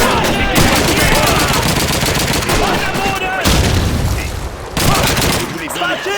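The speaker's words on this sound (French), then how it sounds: "Attention, j'envoie une grenade!" Battle noise from Call of Duty 2's Russian campaign: loud, dense bursts of automatic gunfire and heavy booms that keep going throughout, a grenade blast among them, with shouting voices mixed into the din.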